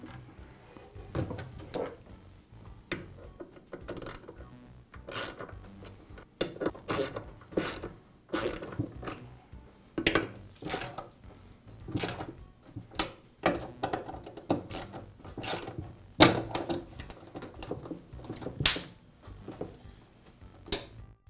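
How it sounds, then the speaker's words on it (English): Fasteners on a DeWALT miter saw fence are tightened by hand, producing intermittent close clicks, scrapes and rasping metal turns separated by quiet pauses, with no talking. "now I can tighten up the fasteners"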